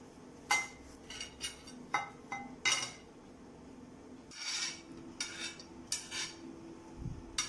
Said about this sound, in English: I will put everything in this bowl and mix it.